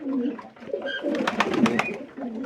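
Pigeons coo repeatedly while drinking water dosed with Zandu Pancharishta medicine, their low, throaty calls overlapping close by with a few brighter chirps mixed in.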